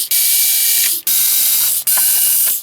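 Screws being driven out of a TTi CPX400A bench power supply, three loud, close, sustained bursts of rapid ratcheting buzz, each about a second long and separated by brief pauses.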